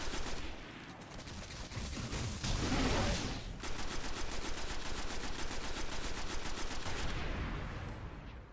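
Sustained automatic fire from a primary weapon in the Destiny video game plays as a rapid, evenly pulsed stream of shots that is loud and close. A brief louder blast sounds early on, and the firing then runs steadily for several seconds before it cuts off.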